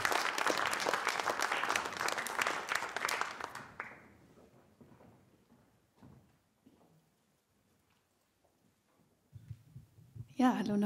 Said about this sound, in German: Macht nochmal einen großen Applaus für Tabea Farnbacher.